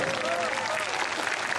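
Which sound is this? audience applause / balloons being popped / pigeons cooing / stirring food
audience applause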